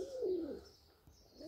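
Pigeons at a dovecote give a soft, low coo, one rolling call at the start and another beginning at the end, faint against quiet surroundings.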